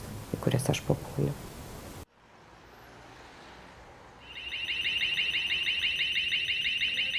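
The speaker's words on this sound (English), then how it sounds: "The following day, early evening, the alarm goes off at the party headquarters." An alarm sounds at a political party's headquarters, a steady high electronic tone rising from quiet background noise and holding loud and continuous after a short stretch of speech.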